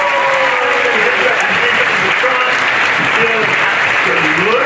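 Steady, dense audience applause fills a stage hypnosis show, a continuous wash of clapping from a large crowd with a voice speaking over it.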